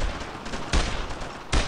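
Rapid gunfire from a World War II squad laying down suppressing fire in Brothers In Arms: Road to Hill 30, dense continuous shots with two heavier bursts standing out, loud and close, no voices.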